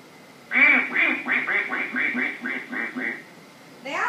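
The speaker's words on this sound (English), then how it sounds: "That is a duck." A duck quacks in a quick run of about ten loud, nasal quacks with even rhythm, close and alone, followed by a brief higher sound at the end.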